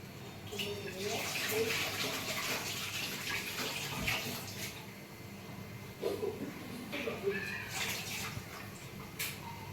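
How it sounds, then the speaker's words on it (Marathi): Fresh coriander leaves rinsed under running tap water in a home kitchen, a steady close splash and trickle lasting throughout, with louder bursts as the bunch is moved, and faint voices in the background. "कोथिंबीर घेऊया आपण. धुवून घे, धुवून घ्यायचं असतं."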